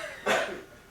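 A single sharp cough at a Passover Seder table, close and fairly loud, then quiet.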